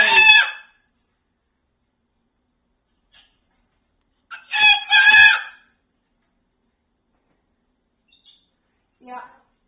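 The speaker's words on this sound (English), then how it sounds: "Oh, you're so loud, Max. You're so loud" A Moluccan cockatoo gives loud, harsh calls nearby, two strong screeching bursts separated by silence, followed later by a shorter, fainter call.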